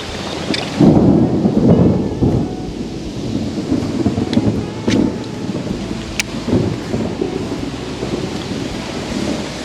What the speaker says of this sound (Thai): แต่ตอนนี้ฝนมานะครับ เดี๋ยวเราอาจจะต้อง ไปหาที่หลบฝนก่อน